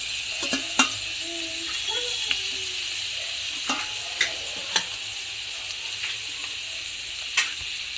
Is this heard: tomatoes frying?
yes